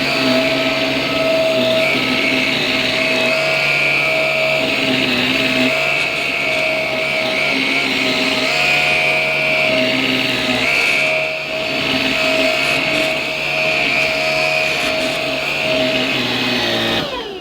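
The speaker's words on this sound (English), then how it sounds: "see how it copes with the pet hair on the carpet using the supplied motorised carpet and floor head" A Simplicity S65D cordless vacuum with its motorised carpet head whirs steadily across pet-hair-covered carpet, a close, continuous high motor whine with the brush roll pitch shifting slightly as it moves, no voices.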